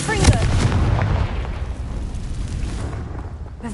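A fiery blasting-spell explosion in the game Hogwarts Legacy erupts as a loud, close, rumbling boom that rolls on for several seconds and slowly fades.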